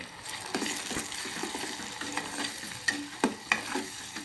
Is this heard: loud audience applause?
no